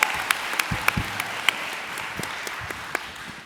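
Fans at a Power Morphicon 2024 convention panel for Jungle Fury break into applause, a steady wash of many hands clapping with a few sharper individual claps standing out, moderately loud and without talk.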